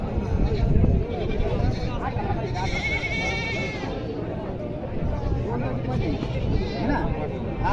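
Goats bleating repeatedly among a crowd of buyers and sellers at a village goat market in Bodhegaon, the calls rising over steady chatter and someone talking nearby.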